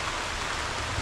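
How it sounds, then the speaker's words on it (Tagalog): Heavy rain pours down outdoors where fish is being grilled over a fire, a brief, dense and even hiss with no pauses. "lumakas ang ulan mga idol"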